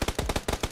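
Rapid automatic rifle fire in PUBG (Battlegrounds), a steady stream of about eight close, punchy shots in quick regular rhythm, loud and alone with no voices.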